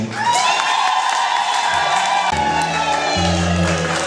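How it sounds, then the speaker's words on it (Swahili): Loud, sustained applause from a large crowd, dense clapping with some cheering mixed in, continuing steadily throughout. "Makofi mengi."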